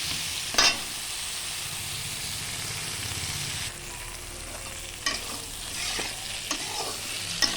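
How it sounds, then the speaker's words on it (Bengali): Eggplant frying with salt and turmeric in a pan for a hilsa fish curry, giving a steady close sizzling hiss with a few sharp scraping stirs and small crackles throughout. "লবণ হলুদ দিয়ে দিলাম। একটু হালকা ভেজে জল দিয়ে দেবো।"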